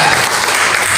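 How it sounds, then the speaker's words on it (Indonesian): Church congregation in a Jakarta apartment service breaking into applause, a thick even wash of many clapping hands, loud and sustained from start to finish. "Berikan tepuk tangan."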